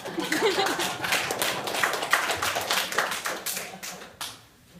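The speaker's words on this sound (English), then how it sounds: "Clap again." Audience clapping at a political campaign event in Placentia, a scattered, moderately loud patter of hands that rises and falls across the crowd, then thins out and fades near the end.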